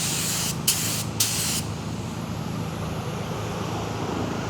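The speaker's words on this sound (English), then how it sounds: "I'm gonna spray that first." Aerosol spray paint hissing onto a car's front bumper tow hook, two short bursts followed by one longer steady spray, close and loud, with no talk.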